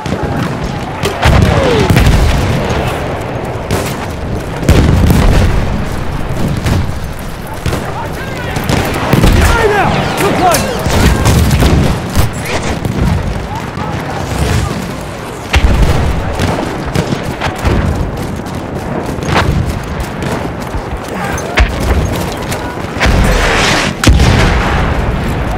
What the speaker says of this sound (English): It's a tank!